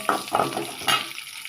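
Crushed garlic tossed into a hot pan, a brief sizzle with a few quick stirring scrapes, close and moderately loud.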